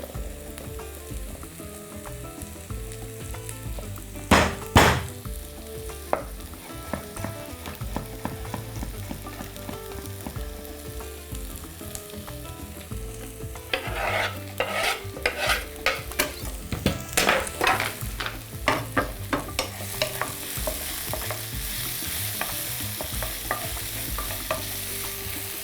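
Four cloves of garlic fry in a pan, giving a steady sizzle with loud scraping stirs and sharp metallic utensil knocks against the pan, which grow busier and denser halfway through.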